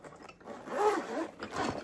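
A zipper runs closed on a small zippered storage case holding a handheld vacuum's accessories, heard as two quick close rasping pulls, the first longer and the second shorter, with no talking.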